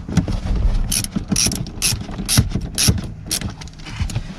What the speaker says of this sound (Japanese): 次はまたボルト戻していきますね